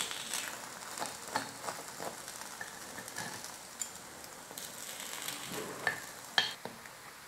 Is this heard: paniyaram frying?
yes